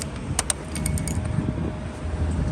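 Motorcycle keys, a main and a spare, jingle briefly in a hand with a couple of bright metallic clinks, over a low background rumble.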